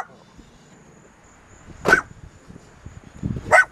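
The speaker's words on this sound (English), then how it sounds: "My dog's freaking out, I'm sure y'all hear that." A dog barks two sharp, loud, close barks a couple of seconds apart, with faint background noise between them and no clear talking.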